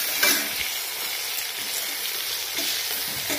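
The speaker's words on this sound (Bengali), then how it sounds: "এই যে বেগুন ভাজবো এখন" Sliced eggplant fries in a pan with mustard, giving a steady crackling sizzle up close, alone without talk.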